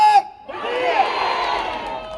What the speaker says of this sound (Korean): 딱 2초 동안 있다가 다 같이 박수 쫙 한번 쳐주세요